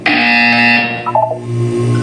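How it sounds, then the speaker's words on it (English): A loud electronic buzzer from the Portal 2 video game sounds alone in a sustained harsh tone, shifting briefly in pitch before settling into a lower droning buzz. "You will hear a buzzer."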